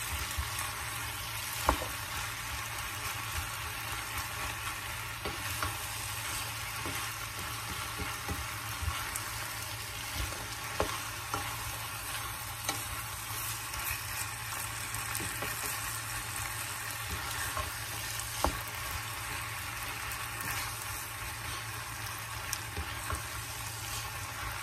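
Potatoes with squid cook uncovered in a pan, giving a steady, moderately quiet sizzle and frying hiss with occasional small pops and clicks, unbroken and without voices.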